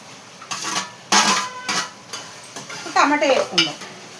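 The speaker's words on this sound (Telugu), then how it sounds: "ఇప్పుడు టమాటా వేసుకుందాం" Tomatoes go into a pan of prawn curry and are stirred, with bursts of spoon-on-metal scraping and clinking over a soft sizzle, loud and close in several uneven strokes.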